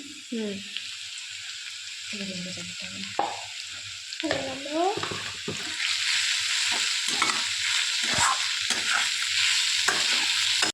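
Pasta ingredients are stir-fried in a pan, a spatula scraping and tossing in uneven strokes while a sizzle builds louder toward the end, with a voice talking intermittently early on.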